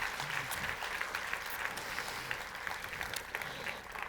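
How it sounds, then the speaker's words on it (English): An audience applauds, a steady wash of many hands clapping that holds for several seconds at a fairly even level. "gotta clap for our rendering team"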